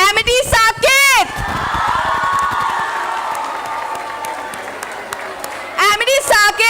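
A school crowd at a youth awards grand finale cheers loudly for a second runner-up announcement, sustained shouting and whooping rising under amplified announcer talk at the start and end.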